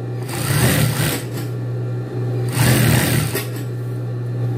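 A sewing machine stitches a French seam on a men's shirt, running loud and close in two sustained whirring bursts separated by a brief pause, with no voices.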